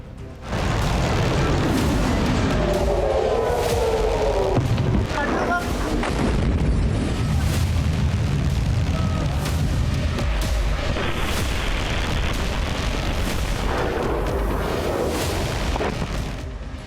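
Airstrike explosions hit Beirut in a continuous, loud wash of heavy booms and rumbling blasts, with several sharper bursts standing out over the sustained roar.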